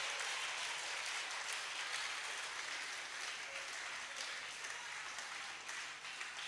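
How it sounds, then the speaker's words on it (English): A round of applause for a lecturer at a polytechnic valedictory lecture, a steady wash of many hands clapping in a hall, heard at a distance and fairly faint, slowly easing near the end. "A round of applause for him."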